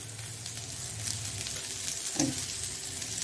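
Mangalore-style pathrode pieces shallow-fry in a little oil, giving a continuous close sizzle with light bubbling and occasional stirring or scraping noises.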